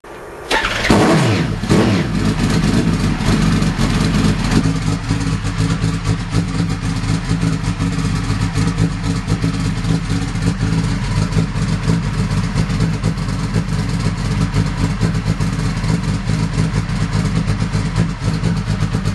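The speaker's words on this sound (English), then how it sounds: "let's go ahead and start the engine" An engine cranks and catches after a brief start, then settles into a steady, loud idle that runs unbroken for the rest of the clip, close up and without talk.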